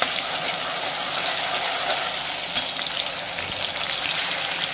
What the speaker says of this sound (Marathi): तीन ते चार मिनटं आपण ही पेस्ट चांगली परतवून घेणार आहे